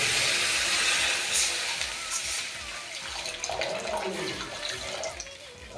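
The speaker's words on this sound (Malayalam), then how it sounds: "പിന്നെ സാദാ പച്ചവെള്ളം ഒഴിക്കുക" Plain water poured into a hot pan for rava upma rushes loudly for a few seconds, then settles into a softer hiss and bubbling, heard up close.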